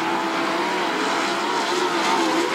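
Sprint cars roar around the track in a heat race at the Brad Doty Classic, a continuous loud engine drone with shifting pitch and no break.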